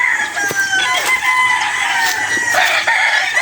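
Several roosters crow over one another at a hot, spacious chicken farm, loud and near, with overlapping drawn-out calls and occasional clucks forming a constant chorus, with no talking.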